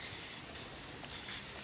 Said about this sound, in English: so the rain just come over.